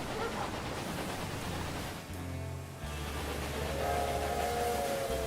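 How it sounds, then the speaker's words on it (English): Train running in the video game Railway Empire 2, a steady rumbling rail drone with a brief drop partway through and a low sustained tone rising near the end, with no talk over it. "That's a speedy little train."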